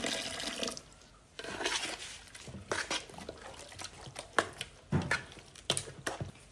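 Water pours and trickles into a lemon-flavoured sweet drink or dessert with lemon juice and peel, a faint splashing stream with uneven bursts and drips, close by and with no talking.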